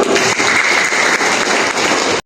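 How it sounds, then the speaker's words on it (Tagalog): Steady, dense clapping from a church congregation fills the whole stretch without pause, then cuts off abruptly at the end. "Wala bang palakpak kay Lord?"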